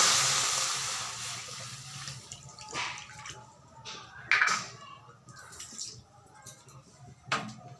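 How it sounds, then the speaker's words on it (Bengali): Water poured into a kadai set on the stove to parboil fish for a Bengali fish bhorta, heard as soft splashing and dripping with a few louder splashes, fairly close and with no talking. "জল দিয়ে দিচ্ছি"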